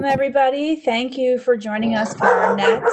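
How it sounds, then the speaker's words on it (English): A pet dog barks and yips repeatedly in the background, several sharp barks scattered under a man's welcoming speech, moderately close and fairly loud. "that's my dog barking in the background"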